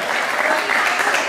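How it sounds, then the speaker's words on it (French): Audience applause fills the space, a dense, even wash of many hands clapping at once, loud and close, with a murmur of voices blended in. "Applaudissez."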